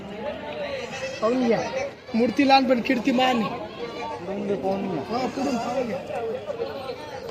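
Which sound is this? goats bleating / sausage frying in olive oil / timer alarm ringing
goats bleating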